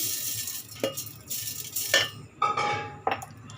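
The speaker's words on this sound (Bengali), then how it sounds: "এখন আমি এটাকে ঘষে ঘষে নিই কচুটাকে" Taro root is rubbed against a grater in a kitchen, giving a few separate, fairly faint rasping scrapes at an uneven pace against a quiet background.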